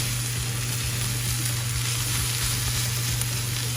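Spinach sautéing in a pan gives a steady, continuous sizzle with no breaks, fairly loud and close, with a low constant hum running underneath.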